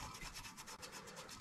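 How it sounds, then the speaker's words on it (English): Steady rubbing and scrubbing of an abrasive Scotch-Brite pad against metal as leftover gasket material is cleaned off a Yamaha golf cart engine, a close, continuous scuffing texture with no talking. "we're going to take a piece of Scotch-Brite and we're going to clean all what's left of this gasket up here"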